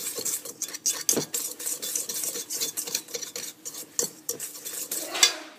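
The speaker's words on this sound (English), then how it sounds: "Whisk it all together" Flour, xanthan gum and salt whisked together in a bowl for gluten-free honey graham crackers, a steady close run of quick scraping and rattling strokes against the bowl, with no talking.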